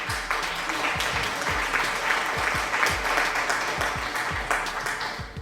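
Applause sound effect played during a livestream, a dense burst of crowd clapping with steady rapid claps throughout, fairly loud and without talk.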